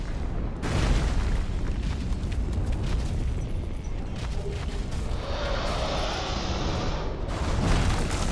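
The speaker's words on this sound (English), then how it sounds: "Oh gosh, he can shoot fire." An enemy in Dark Souls 2 shoots fire, producing a loud sustained roaring whoosh of flame with booming bursts, dense and continuous throughout.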